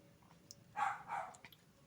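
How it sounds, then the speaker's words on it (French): A dog in a video game whines or cries in two short, faint bursts close together, over a low background hum. "il y a mon chien qui crie"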